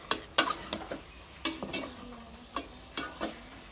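Meat cooking in a pot on a home stove gets stirred with a spoon. There are about eight soft scraping strokes in an uneven rhythm, close and fairly quiet, over a faint background of low sizzling.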